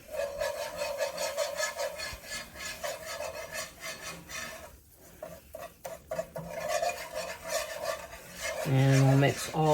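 Paprika and onion powder being stirred into a pan, a steady scraping and rubbing that runs nearly continuously at moderate loudness, with a brief lull partway through and some louder sizzle or clatter near the end.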